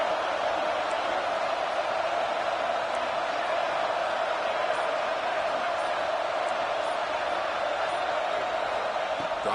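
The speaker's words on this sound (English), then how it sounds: "This crowd is trying to inspire this defense to make a big red zone stop." College football stadium crowd roaring as the defense tries for a red zone stop, a broad constant wash of noise from thousands of fans, steady and distant-sounding with no breaks.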